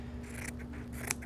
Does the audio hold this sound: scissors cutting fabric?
yes